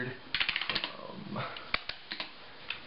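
Someone types on an original 1998 Apple iMac keyboard, strawberry red. Sharp, fairly quiet clicks and clacks come in an irregular run over a soft background.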